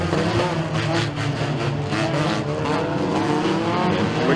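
Race cars roar off the start of a heat race at Stateline Speedway, a loud, continuous blend of revving engines surging together with pulsing, overlapping passes close by.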